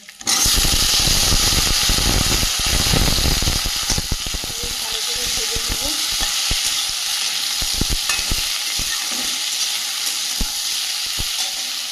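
Boiled potatoes and vegetable stems tossed into a hot pan, a loud burst of sizzling at first that settles into steady frying, with scraping stirring knocks scattered throughout, close by.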